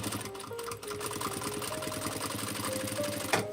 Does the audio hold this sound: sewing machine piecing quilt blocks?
yes